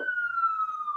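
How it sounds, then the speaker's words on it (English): An emergency vehicle siren passes outside, heard as one sustained wailing tone drifting slowly downward in pitch, moderately loud but clearly from a distance. "I apologize for the sirens in the background."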